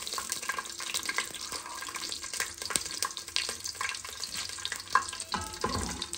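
Cumin seeds frying in hot oil give a soft, continuous sizzle with light crackles and occasional stirring clinks, fairly quiet and steady throughout with no talking.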